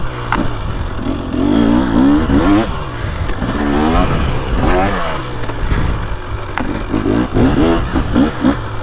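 A 2023 two-stroke 300 dirt bike, Beta 300 Race Edition or KTM 300XC, pulls hard in third gear on a tight woods loop, its loud steady engine drone rising and falling close to the rider throughout.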